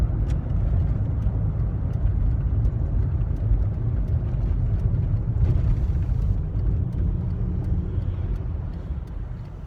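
A large pickup truck drives close by in traffic, its engine a steady, loud low rumble with road noise throughout, no voices over it.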